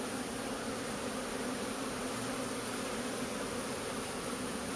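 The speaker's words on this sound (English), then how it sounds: "It's getting noticeably louder around me because of the bees" A honeybee swarm fills the air with a dense, steady buzzing hum that surrounds the listener, loud and continuous with no pauses or voices.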